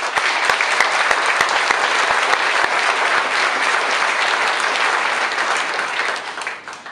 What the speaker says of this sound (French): je vous demande encore de l'applaudir pour l'encourager